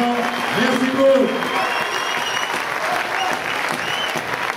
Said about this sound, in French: vous avez tous les deux vos applaudissements